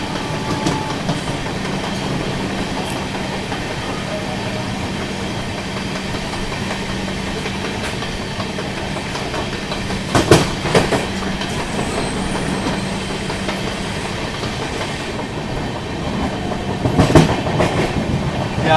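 The New Delhi–Gaya Mahabodhi Express rolls steadily through Ghaziabad Junction without stopping, a loud continuous rumble with rhythmic wheel clatter and two sharp bursts of rattling over points.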